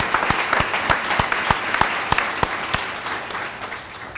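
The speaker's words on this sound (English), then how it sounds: "Big round of applause for these two." Audience applause at a ceremony launching a pediatric residency in Spokane, dense steady clapping with sharp individual claps standing out, fairly loud and continuous, tapering slightly toward the end.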